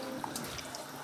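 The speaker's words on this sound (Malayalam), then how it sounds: "ഇതിലേക്ക് വെള്ളം ഒഴിച്ച് കൊടുക്കാം." Water poured from a glass onto ponni rice in a pot for vegetable biryani, a steady close splashing pour filling the whole short moment without talk.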